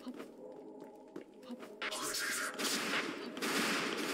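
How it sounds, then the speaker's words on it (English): Gunfire aimed at the player in a video game set in Poland: rapid bursts of shots crackle loudly through the second half, dense and fusillade-like, mixed with game ambience and some talk. "Oh, shit. You're shooting at me."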